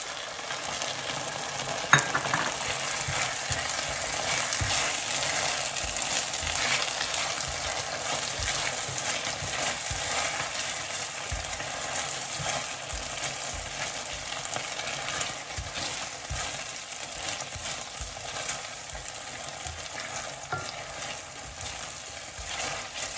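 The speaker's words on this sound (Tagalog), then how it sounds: "Isunod na natin tong ating tomato sauce." Tomato sauce sizzles in a hot frying pan while being stirred, a dense continuous crackling hiss with frequent scraping strokes of the spoon, close and steady for the whole stretch.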